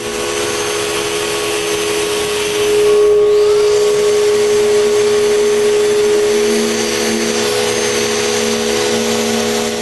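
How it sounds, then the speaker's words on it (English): A power sander works the exterior surfaces of a pine router cabinet, a loud continuous motor whine with a steady abrasive hiss, briefly swelling as pressure shifts, with no talk. "I sand all the exterior surfaces of the cabinet."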